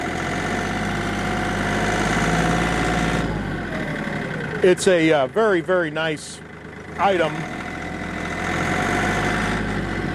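Kioti CK3510 tractor engine idling with a steady, fairly loud low rumble that drops away briefly before resuming, while someone speaks over it.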